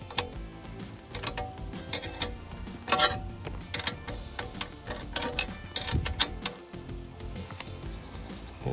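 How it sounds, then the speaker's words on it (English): A nut driver tightens lock nuts on a Putco roof-mounted light bar bracket for a 2015-2022 Ford F150, producing close, steady ratcheting clicks and small metallic creaks in an irregular rhythm, with no talk. "might help if I had used a 3/8 inch nut driver, but this works."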